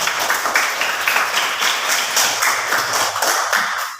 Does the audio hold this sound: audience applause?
yes